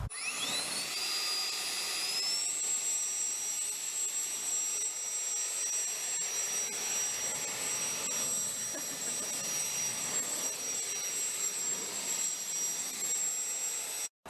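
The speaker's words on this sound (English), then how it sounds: "Leaf jet." A leaf blower clearing leaves and spruce needles from a catio runs at a steady, loud jet-like whine with a high tonal hum, holding constant for the whole clip before cutting off abruptly at the end.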